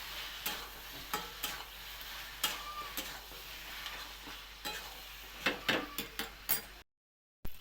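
Goat skin and chilli powder being stirred and sautéed in a pan, giving a soft steady sizzle broken by sharp spatula scrapes and clacks against the pan, close and alone.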